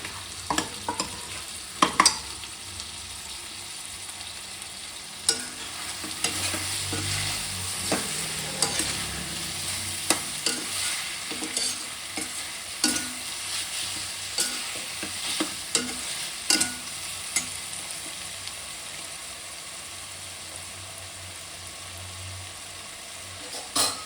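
Green chillies frying in masala paste on low flame for spicy donne chicken biryani, with a continuous soft sizzle broken by repeated sharp clicks and scrapes of stirring against the pan.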